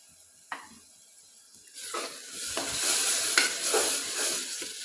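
Tomato paste and soy sauce sauté in a pan, starting quiet with a single scrape, then swelling into a loud close sizzle broken by repeated stirring strokes and spatula scrapes.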